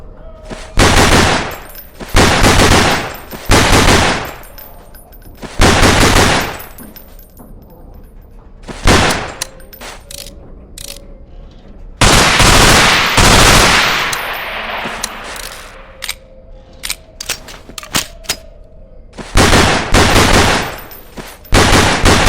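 Bursts of video game gunfire at training targets in Underhell, loud rapid volleys separated by short pauses, with a long sustained stretch of continuous firing in the middle.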